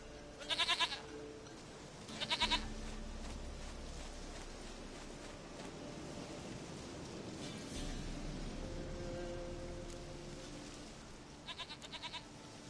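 Goat bleats in The Witcher 3, three short wavering calls spaced across the stretch, the last one fainter, set over a steady low game ambience with no talking.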